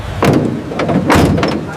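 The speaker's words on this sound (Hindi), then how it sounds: "एक दरवाजा बंद हुआ" A door swings shut with two heavy, resonant thuds about a second apart, close and loud with a short reverberant tail and no talking.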